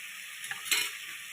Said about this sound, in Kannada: ಸೊ ಚೆನ್ನಾಗಿ ಹೀಗೆ ಬಾಡಿಸ್ಕೋಬೇಕು